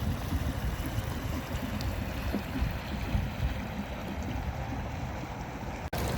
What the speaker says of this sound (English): That is the new motor speed test.